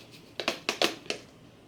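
Rocky granular washing powder poured into a container, heard as a handful of short, gritty bursts of rattling grains in irregular clumps, close and moderately loud, with quiet pauses between them.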